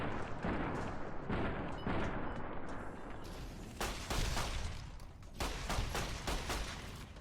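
Rapid bursts of gunfire in Fallout: New Vegas as fire geckos close in, with dense overlapping shots and booming impacts filling the clip continuously and loudly, no talking.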